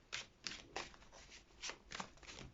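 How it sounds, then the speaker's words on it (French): A deck of tarot cards is shuffled by hand in soft, quick riffling bursts, about seven close crisp rustles in a quiet room. "on va tirer les cartes petit à petit pour vous les Verseaux. Allez, je les mélange."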